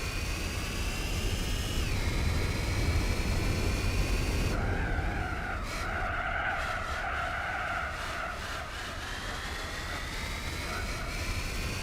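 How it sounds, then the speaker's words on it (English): A Jaguar XKR racing in Gran Turismo 4, its engine drone and tyre noise forming a steady, loud, continuous whine with tonal shifts as the revs change, and no voices. "the engine doesn't sound like much"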